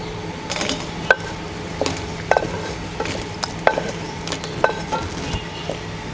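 Ginger and garlic roasting in a pan for Maharashtrian-style village chicken: soft sizzling with repeated clinks and scrapes of a spoon stirring against the pan, close up and without talk.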